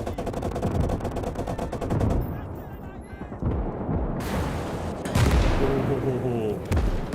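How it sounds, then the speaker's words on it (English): Machine gun fire in the WWII strategy game Call to Arms Gates of Hell during an Eastern Front multiplayer battle, with loud rapid rattling bursts mixed with heavy booms and explosions, continuous and close. "Machine gun, machine gun."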